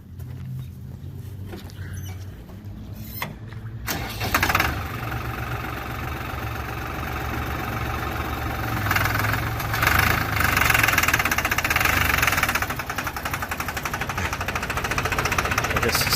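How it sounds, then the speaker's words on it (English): A 2005 New Holland TN60A tractor diesel engine cranks and starts, then settles into a loud, close, knocking idle and pulls away in road gear with a steady rising rumble. "take off a little bit in road gear, just so they can hear it drive out over here."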